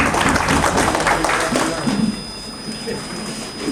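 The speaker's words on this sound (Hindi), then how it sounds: "ऐतराज का हो तो ताली बजा दीजिए" Audience applause at a rural media workshop in a meeting hall, a steady wash of many hands clapping that fades somewhat after two seconds but carries on to the end.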